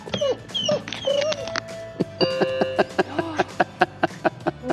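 A black Labrador waits at the door wanting to come inside, whimpering and yipping close by, then a run of short, evenly spaced sharp sounds.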